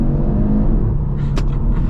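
A 2025 Audi RS3 Carbon Black pulls hard at full throttle in second gear, its engine a loud, steady, close rumble running through the whole stretch, with a brief higher-pitched burst near the end.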